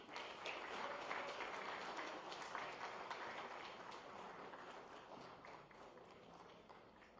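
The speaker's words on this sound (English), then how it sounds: "So please give Sir a round of applause." Conference audience applauding in a large hall, a steady, even wash of many clapping hands heard from a distance, fairly faint and fading slightly toward the end.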